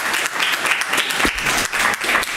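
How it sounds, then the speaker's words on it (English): An audience at a Fillmore city council meeting breaks into steady, dense applause that fills the room throughout, with faint voices mixed in underneath. "I'm going to ask for no clapping."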